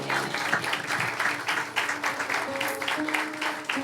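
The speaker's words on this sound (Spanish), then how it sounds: "Dale un aplauso a Dios." A church congregation applauding, with continuous, fairly close clapping that swells in waves and has faint musical tones underneath.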